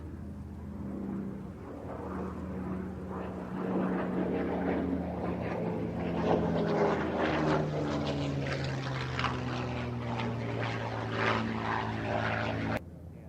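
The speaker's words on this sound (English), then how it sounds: "4 Hawker Hurricanes take to the skies over Duxford" Several Hawker Hurricane propeller fighters take off at Duxford, a loud sustained engine drone with layered propeller tones building and holding close, with no voices over it, cutting off sharply at the end.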